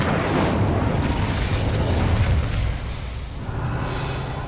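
Incendio fire spell cast in Hogwarts Legacy, a loud whooshing roar of flame that bursts at once and holds steady, then thins slightly as it fades.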